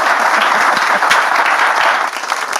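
Loud, dense applause from a studio audience fills the whole short stretch, steady and close, with many hands clapping at once and easing slightly at the end.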